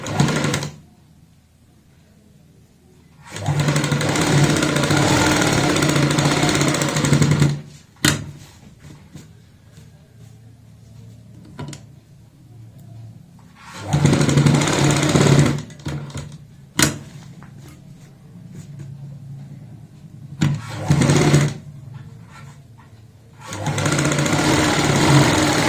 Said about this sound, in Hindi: तो सिलाई की यहाँ पे शुरुआत करते हैं एक साइड से,